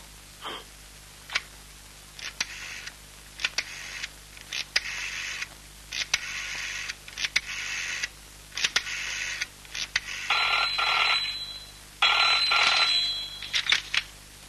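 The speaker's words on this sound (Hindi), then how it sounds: "अनिल कुमार को फोन कीजिए आप।" A telephone rings in repeated short bursts with brief pauses, then shifts to longer, steadier ringing near the end, with no talking.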